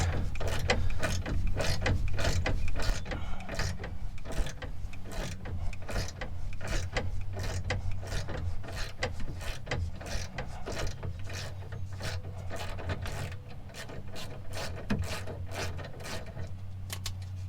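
A wrench on an 18 mm nut at the top of a Honda Ridgeline rear strut makes rapid, evenly spaced ratcheting clicks, close and crisp, continuing without pause.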